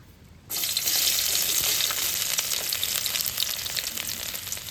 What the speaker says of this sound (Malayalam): ഓയിൽ ചൂടായി വരുന്ന സമയത്ത് നമുക്കിതിലേക്ക് വെളുത്തുള്ളി ഇഞ്ചി ചെറുതായിട്ട് കട്ട് ചെയ്ത് വെച്ചാട്ടോ അതിലേക്ക് ഇട്ടുകൊടുക്കാം